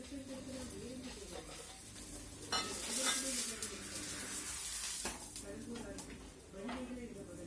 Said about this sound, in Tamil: பராட்டா தோசைக்கல்லில் போட்டாச்சா?